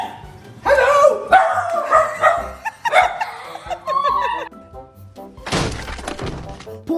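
Dog barks and yips come in several loud, close bursts, with crashing, shattering noises between them and some voice-like sounds.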